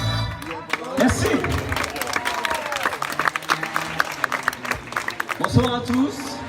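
A concert audience in Sauvian applauding, dense sustained clapping from a crowd that swells briefly near the end, with a voice speaking over it through amplification.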